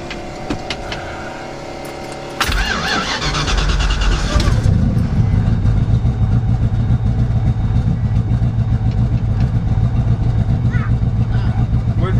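A turbocharged 1969 Ford Mustang coupe starts quietly and then jumps into a loud, steady rev partway through, its engine droning heavily and continuously close by, with muffled voices faintly underneath.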